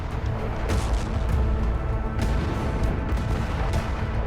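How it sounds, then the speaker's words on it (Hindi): Explosions from Israeli bombing of the Nuseirat refugee camp in Gaza, caught in news footage: a loud, continuous roar of blast noise with heavy low rumble and several sharper booming impacts. "नुसरत कैंप पर भी इजरायल ने बमबारी की, जिसके बाद जबरदस्त धमाके देखे गए"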